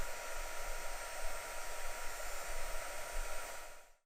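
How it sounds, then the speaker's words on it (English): Quick-dry heat tool drying chalk paste on a craft transfer, a steady close whooshing blower hum that runs continuously and then cuts off at the end. "Our quick dry tool does a great job of speeding this up."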